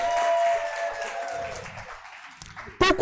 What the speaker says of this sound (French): Applaudissez pour le monsieur.